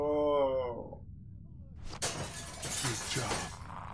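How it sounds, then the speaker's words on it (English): Baseball bat smashing a window in The Walking Dead video game: a voice speaks briefly, a pause, then a sudden loud crash of shattering glass with scattered tinkling debris trailing off. "Use the bat to shatter that window so you can reach in, okay?"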